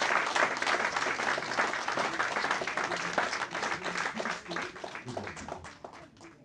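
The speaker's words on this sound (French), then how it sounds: "Applaudissez Jefferson pour nous, s'il vous plaît." A church audience applauds with dense, sustained clapping that slowly fades toward the end, with a faint voice in the background.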